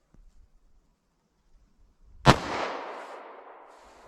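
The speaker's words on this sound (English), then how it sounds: "first up is our 9mm rated at 1220 feet per second from a 4-inch barrel" A single sharp gunshot from a 9mm Speer Gold Dot round fired from a 4-inch barrel, a loud close crack followed by a long decaying outdoor echo, with near silence before it.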